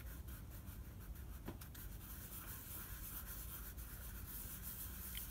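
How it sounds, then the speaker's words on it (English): Crayon rubs and smudges steadily over embossed black cardstock, a soft continuous close-up scraping and brushing texture with no talk. "So the first thing that he did was just color over the top like this, and then smudge."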